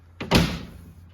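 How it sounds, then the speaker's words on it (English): A barn-door style compartment door on a 2021 Forest River FR3 32DS RV swings open with a single close, sharp clack and a short thudding rattle. "your barn door style of opening here to all of your vital fluids"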